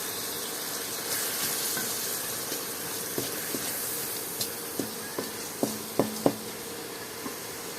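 Beef sizzles steadily in a pan with salt, chili, cumin and turmeric powder and a little water, with a constant frying hiss and scattered sharp pops and spoon clinks, no talking.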